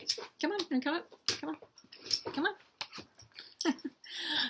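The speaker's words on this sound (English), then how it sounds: "dogs here, hey" A dog whimpers and whines in short, high-pitched yips and wheezy cries, close by and fairly quiet, mixed in among brief stretches of speech.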